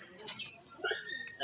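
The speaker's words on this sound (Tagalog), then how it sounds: "Mga ibon ni RJ Bambo" Soft cooing and brief chirps from a few caged birds close by, with faint rustling and a little background chatter.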